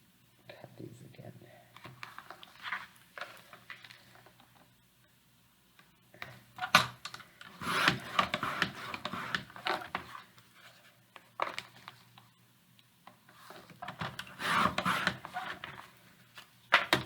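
Paper pieces are cut with an old scoring cutter in a series of soft, close scraping and tapping strokes, with quiet speech at times between them.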